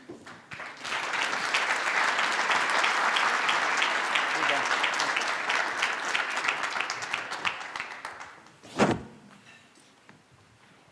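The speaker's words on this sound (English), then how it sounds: "All right, so let's give our panel and all our panelists applause." Audience at an economic outlook event applauding its panelists, a full round of clapping that swells, holds, then thins out, ending with a sharp thump like a door or object knocked nearby; voices murmur beneath.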